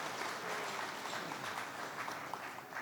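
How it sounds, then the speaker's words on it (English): Audience applause at a business investment dinner, steady clapping from many hands held at an even level throughout, fairly soft and slightly distant, with no talk over it. "Round of applause for George, please."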